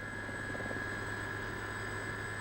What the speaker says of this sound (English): We flew to Saunders by Army Air Corps helicopter.